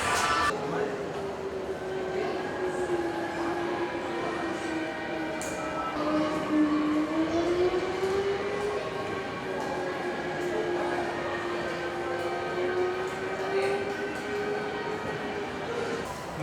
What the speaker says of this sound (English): Michael's getting inside the Shinkansen train.